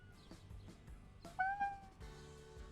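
Cat meows from the hidden-object video game Hidden Cats of London, several short, soft mews in a row, with a brighter, rising meow near the middle.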